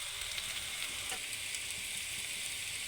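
Taro fries in hot oil with cumin, giving a steady, close, dense sizzle that stays even throughout with no voices.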